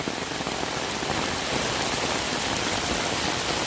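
Heavy rain from Tropical Storm Fred pours down steadily over a garden beside an overwhelmed stream culvert, a dense, continuous hiss close to the mic with no voices.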